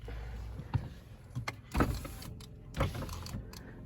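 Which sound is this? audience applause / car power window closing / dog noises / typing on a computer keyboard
car power window closing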